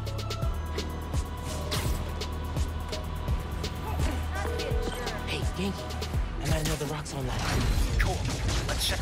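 Mechanical gears grinding and ratcheting inside Marvel's Spider-Man: Miles Morales on PS5, a steady clanking machine loop under game music with sharp clicks and a louder burst of clatter near the end.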